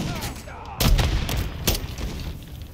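Gunfire in the Modern Warfare 3 campaign, with several sharp shots and bursts cracking over a busy battlefield background while voices talk.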